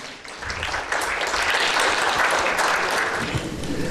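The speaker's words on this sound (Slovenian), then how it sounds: "En aplavz." A crowd claps steadily for a few seconds, the applause swelling quickly and holding at a full, even level.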